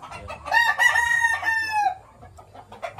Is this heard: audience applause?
no